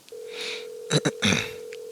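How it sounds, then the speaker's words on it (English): A phone keypad dials 911 in the video game Saints Row: a steady dial tone, then a few quick electronic key beeps, short and clear. "just call 911 on your phone and the ambulance will come"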